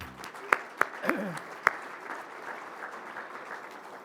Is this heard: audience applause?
yes